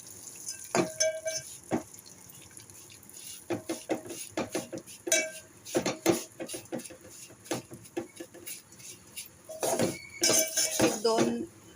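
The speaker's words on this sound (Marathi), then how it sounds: "याच्यामध्ये टाकले शेवया पण चांगल्या तुपामध्ये भाजून घ्यायच्या." A spoon roasts vermicelli with dry fruits in ghee in a pan for kheer. Crisp metallic clinks and scrapes keep recurring close by, growing busier and denser near the end.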